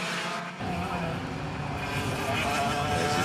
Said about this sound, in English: 125cc air-cooled 2-stroke engines.